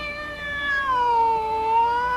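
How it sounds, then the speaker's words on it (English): A single long, drawn-out cat meow, close and loud, sliding downward in pitch and holding steady for about two seconds. "That meowing in the background is gonna get annoying"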